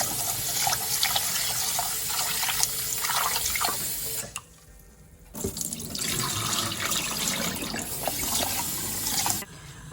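Tap water runs into a bowl as rice is rinsed for lemon rice, a loud steady splashing and rushing close by that stops briefly partway through and then resumes.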